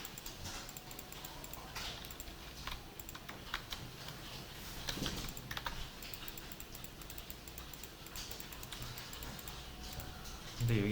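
Light, quick taps on a computer keyboard with an occasional firmer keystroke like Enter, soft and close, under and between a person's speech.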